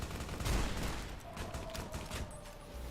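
Rapid gunfire in Fallout: New Vegas rings out as a dense, loud burst that peaks early and then trails into a steady rattle with a faint tone underneath, no talking.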